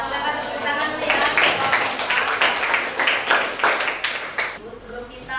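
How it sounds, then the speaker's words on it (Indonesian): Classroom applause after a student presentation in a lesson on virus structure, a steady patter of hand claps from a room of students lasting several seconds, fairly close and even. "kita kasih tepuk tangan dulu ya"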